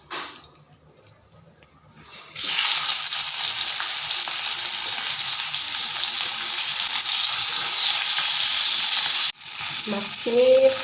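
Fish pieces rubbed with salt and turmeric fry in a pan, a loud, steady hissing sizzle that kicks in after a quiet start and runs on continuously, dipping briefly near the end before resuming.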